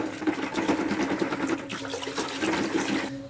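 Hydroponic nutrient solution stirred in water, a close, steady churning and swishing slosh for about three seconds, alone without talk.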